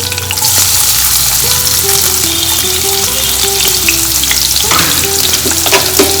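Onion frying in oil in a pan, a loud, continuous close sizzle with stirring scrapes and small clinks over it, no talking.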